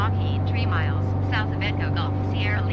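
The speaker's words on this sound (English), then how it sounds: "Okay, I'm really pushing the engine already." Airplane engine droning steadily at high power in a flight simulator game, a constant loud hum running throughout while someone talks over it.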